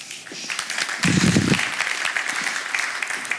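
An audience bursts into applause after a biotech startup pitch at a selection day, strong clapping swelling suddenly and then settling into a steady, slightly thinner patter.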